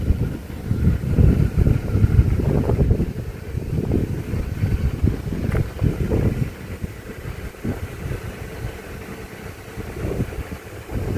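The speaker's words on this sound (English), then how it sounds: "A motorcycle just pulled up behind me." A motorcycle idles close by at a roadside stop near Needles Eye Tunnel, a steady low rumbling throb lasting throughout with wind buffeting the microphone.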